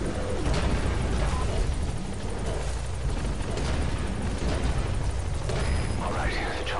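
Helicopter touching down in Metal Gear Solid 5: The Phantom Pain, a steady broadband rotor roar and rumble filling the whole stretch alongside game sound, with voices talking over it.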